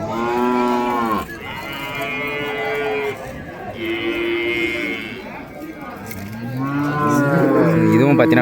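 Cattle at the Vaniyambadi cow market give several long, loud moos one after another, close by, with voices and market chatter running underneath.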